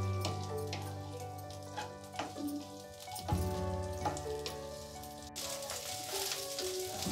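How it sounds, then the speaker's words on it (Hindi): Cauliflower florets frying in oil in a kadai give a steady, close sizzle with crackling and bubbling, interrupted now and then by stirring scrapes, with no voices. "और सेम कढ़ाई में अब इसमें ये गोभी डाल के हम फ्राई करेंगे"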